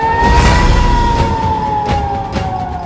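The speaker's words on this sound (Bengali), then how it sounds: "চারিদিকে সাইরেন" A wailing air raid siren sounds during a missile attack alert, a steady loud tone with a slowly falling pitch held throughout, set against a busy, noisy background.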